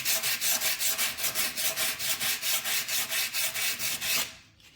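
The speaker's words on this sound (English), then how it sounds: "I'm gonna use an 80 grit to start sanding this." Rhythmic scratchy rasping of coarse 80-grit sandpaper rubbed back and forth on wood, about twenty quick even strokes, then it stops.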